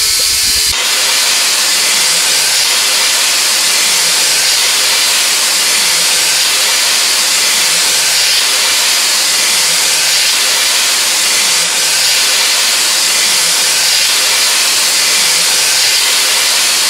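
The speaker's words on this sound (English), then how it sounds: "When carrying out steaming of the tank, ensure the tank is in gas-free condition." Loud, steady steam hisses without pause inside an oil tanker's cargo tank during tank steaming, a harsh, constant, close rush with no voices.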